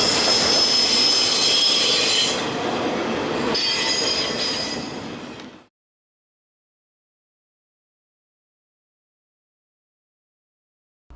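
An NJ Transit train on the Bergen County Line rolls loudly along the rails, wheels squealing and grinding close by for about five seconds before the sound cuts off to silence.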